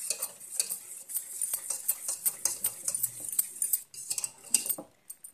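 Homemade curd is stirred hard in a metal vessel to make butter, giving quick repeated scraping and clinking strokes at close range, rhythmic and fairly bright, with no talking.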